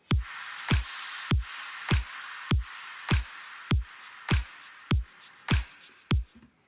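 The drop rhythm of a tropical house track: punchy kick drums land evenly about every 0.6 seconds, with a shaker loop, hi-hats, claps and snaps ticking crisply on top, loud and steady with no voices.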